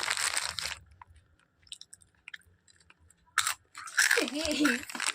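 Someone crunches and chews puffed rice (muduki) up close, with loud bursts of crunching near the start and end, while a voice talks between them.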